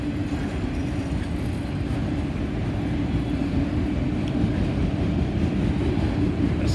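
A unit train rolls through Bellevue, making a steady, continuous low rumble of wagons on the through tracks. It stays close and evenly loud throughout, with no horn and no voices.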